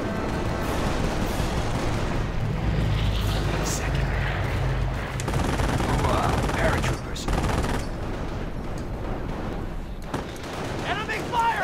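Sustained gunfire and explosions from the Company of Heroes World War II strategy game, loud and dense throughout, mixed with game voices and soldiers shouting over the battle.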